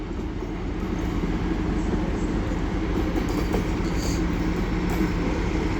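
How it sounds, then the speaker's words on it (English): Class 56 locomotive 56302 pulls up to a signal at Doncaster, a loud, steady rumble and rail noise holding close throughout, with no speech. "So now pulling up to the signal will be 56302 for Stepford Rail."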